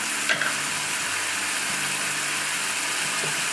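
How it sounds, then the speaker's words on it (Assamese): Fish curry mixture sizzles steadily in an oiled pan, a close, even frying hiss with a couple of light stirring knocks near the start. "মিক্স কৰি অকণমান সময় ভাজি ল'ম।"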